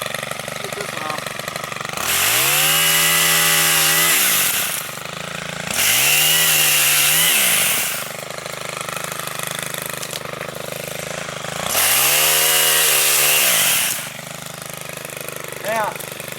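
Stihl HT131 pole saw engine revving hard in three long bursts while cutting overhead branches, with pitch rising and falling between each cut and dropping back to a quieter idle in the gaps.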